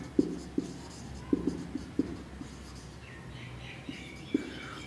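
Chalk or marker taps and scratches on a board during a biology lecture on reptiles come as irregular short clicks and strokes, close and moderately loud, with no talk in between.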